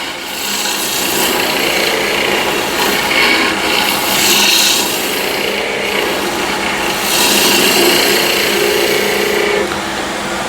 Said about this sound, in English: I find it really comfortable to do slicing cut on the end grain